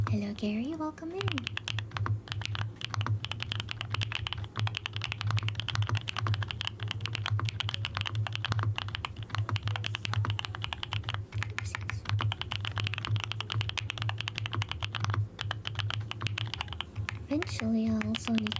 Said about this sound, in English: I have to leave the noise suppression off, which will catch the keyboard sounds very clearly